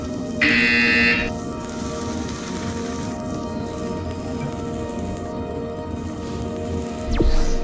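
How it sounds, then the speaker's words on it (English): A harsh electronic buzzer sounds for about a second in the VR game Portal Stories: VR, loud and steady over a constant hum of game ambience, with a brief bump of noise near the end. "You will hear a buzzer."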